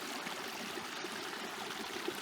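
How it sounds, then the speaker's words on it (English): Mountain spring water trickles steadily into a water bottle wedged between rocks on an Alberta hike, a continuous close splashing flow with no voices. "I'm gonna give my water bottle a little top up here"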